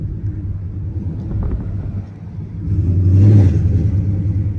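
A car fitted with custom race dump exhaust rumbles nearby, its low engine drone swelling briefly into a louder revving growl before settling, heard alone without talk.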